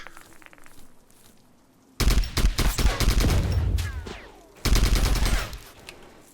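Scar H rifle gunfire in the video game Zero Sievert: two loud, close bursts of rapid automatic shots, the first longer and the second shorter, with quiet gaps between them.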